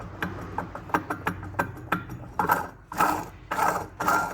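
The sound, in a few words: worn Toyota Hilux pump rotor with play being handled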